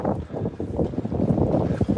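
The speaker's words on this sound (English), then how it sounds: "it's very windy out" Strong wind gusts buffet the microphone outdoors on a walk through a Japanese neighbourhood, making loud, rumbling, uneven bursts of low noise that swell and drop throughout.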